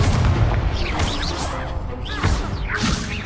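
Confringo spell blasts in Hogwarts Legacy, a series of loud booming impacts and crashes with whooshing bursts, dense and close, heard without talk.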